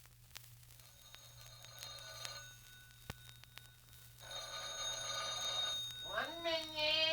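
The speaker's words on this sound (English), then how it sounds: "in the empty house, a phone is ringing." A telephone rings in an empty house in an old radio drama, with repeated bell trills that grow louder and end in a rising wavering tone, heard alone without talk.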